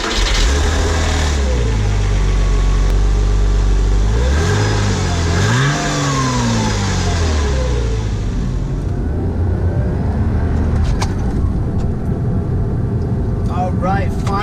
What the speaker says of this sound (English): let's go ahead and take a ride in this 1998 Porsche Boxster